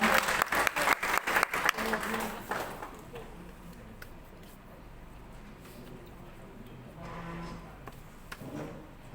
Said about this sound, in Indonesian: Berikan aplaus untuk Ibu Dr. Rebecca.